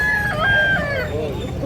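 A rooster crows loudly and close over the murmur of a busy public chicken market, its long wavering call rising and falling while other fowl cluck nearby.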